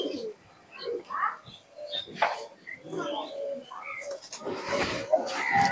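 Pakistani racing pigeons coo in soft, throaty bursts close by, mixed with occasional chirps and rustling, while someone talks intermittently over them.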